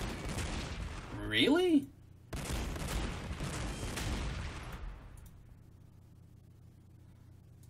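Gunfire bursts from the tactical battle game Warhammer 40,000: Sanctus Reach, dense volleys alongside a short whistling sweep, then a sudden cut and more sustained fire that fades away, with someone talking briefly over it.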